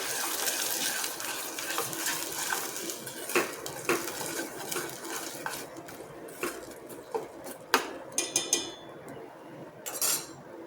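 Gravy being stirred into fried onions in a metal pot, a spoon scraping and clinking against the sides in irregular taps, with wet mixing under a steady low background hiss.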